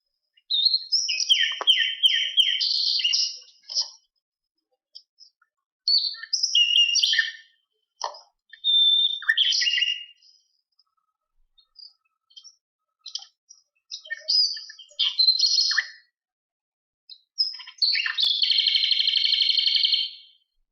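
Recorded birds chirp and sing in scattered bursts of high, rapid trills and tweets separated by quiet gaps, clear and fairly close with no voices.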